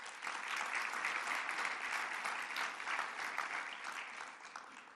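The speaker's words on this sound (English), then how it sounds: "Please give them a round of applause." A crowd applauds steadily for several seconds at a Super Bowl weekend press conference, a dense wash of clapping heard from a distance without any speech.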